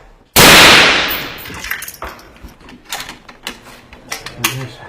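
A single loud, close gunshot cracks out during a combat drill in urban fighting against ISIS in Marawi, leaving a long decaying echo, followed by scattered metallic clicks and handling noises.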